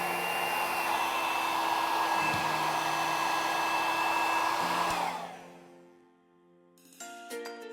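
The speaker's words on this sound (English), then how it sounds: "When you get to the top, you'll see me sort of blow dry above in this way" A hair dryer blows loudly and steadily during a blowout, a close whooshing roar with a motor hum that winds down and cuts off near the end, followed by faint clinking.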